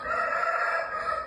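A shamo gamecock crows once, loud and close, a sustained strained call held for over a second with no voices around it.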